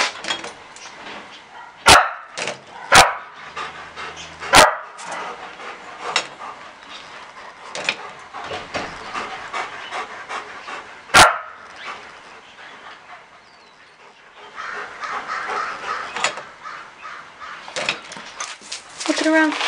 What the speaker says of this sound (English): What's that puppy doing, Soph?